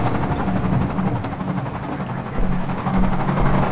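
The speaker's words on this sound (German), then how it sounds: "Super, Heli ist auch unterwegs." A helicopter in the video game Half-Life 2 drones steadily with a dense rotor and engine rumble, loud and continuous throughout with no talk.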